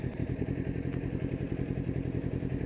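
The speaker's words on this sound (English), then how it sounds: "One nice thing about being on a motorcycle." Kawasaki Ninja 400 KRT motorcycle engine humming steadily up close during a ride, an even rumbling pulse with a faint brief tick partway through.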